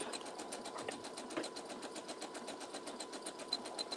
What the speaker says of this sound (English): I'm going to do a zigzag stitch to close this up